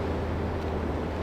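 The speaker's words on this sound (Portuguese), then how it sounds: "Vem um vento gelado lá da geleira" Cold wind blowing off a glacier on an Icelandic shore beside an iceberg-filled sea, a constant low roaring rush buffeting the microphone, steady and close with no breaks or voices.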